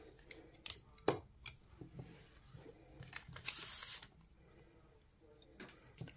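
Paper wrapping is torn and pulled off a new tarot deck up close, with a series of crisp rips and crinkles and one longer tearing swish in the middle.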